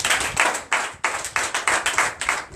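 Congregation at a night deliverance and prophecy church service clapping in acclamation, loud rhythmic bursts of claps in distinct pulses, close and dominant with almost no speech.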